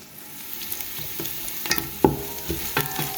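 Slit green chilies hit sautéed onions frying in a pan for prawn caldine. A close, steady sizzle runs throughout, broken by sharp clinks and scrapes of a spoon.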